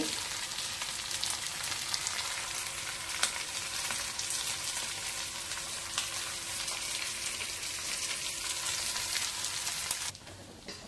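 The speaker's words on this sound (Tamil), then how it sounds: "இந்த பக்கம் சிக்கன் கொஞ்சம் ஃப்ரை பண்ணிகிட்ருக்கேன்" Chicken fries on a cast iron tawa with a dense, even crackling sizzle held close throughout, dropping away abruptly near the end; no one speaks.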